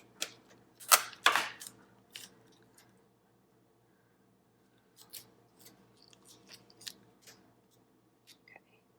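Scissors trim the excess off a paper letter in a planner: a couple of crisp, close snips followed by a pause, then a run of lighter, scattered cuts and paper rustles, quiet and without talking.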